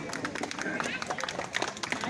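Audience clapping inside a hall at a free health fair in Ghosi, Mau: a steady patter of many hands, moderately loud, mixed with crowd murmur and chatter throughout.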